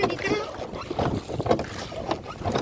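A boat carrying passengers glides across the water on a boating trip at Navegaonbandh, giving a steady rumbling wash and splashing with voices chatting over it throughout.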